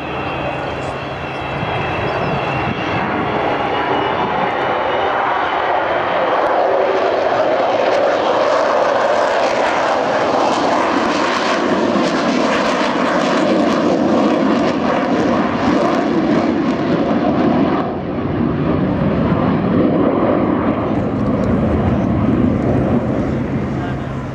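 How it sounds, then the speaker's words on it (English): A propeller plane drones loudly as it passes low and slow with wheels down at the RIAT 2012 air show, its engine note swelling and shifting, with a voice faintly audible underneath. "this magnificent aeroplane, doing a low, slow, wheels down fly past"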